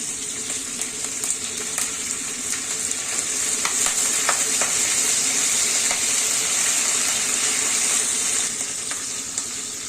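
Chana dal, green chilies and curry leaves fry in oil for tomato poha, producing a loud, unbroken sizzle with occasional light stirring clicks across the whole stretch and no talk.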